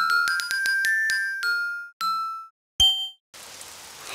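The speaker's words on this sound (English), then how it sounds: "Oh, it's raining outside." Rain falling outside in a children's cartoon: a steady soft hiss that begins near the end, after a run of bright chiming dings and clinks.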